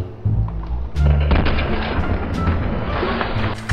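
Gunfire in a mobile shooter game: several heavy, booming shots ring out, a few close and punchy, others trailing off, over a low rumbling background, with no speech.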